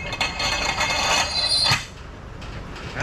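A Harbor Freight manual tire changer being clamped to lock a tire down, giving a loud metallic ratcheting grind for under two seconds, then quieter clicks and rattles.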